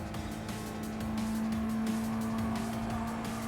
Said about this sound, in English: Okay, I'm driving full throttle, and they said maintain full throttle.